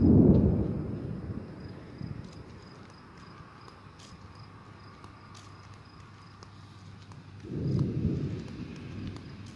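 Thunder rumbles during a storm, a low rolling boom fading over a couple of seconds, then a quieter lull with faint rain before another deep rumble swells near the end.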